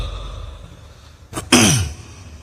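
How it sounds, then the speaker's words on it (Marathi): A man coughs and clears his throat at a political rally, a short rough burst followed by a louder throaty clearing, close and alone over faint crowd murmur. "आज संध्याकाळपासून मला माहीत नाही काहीतरी खोकला सुरू झाला मला"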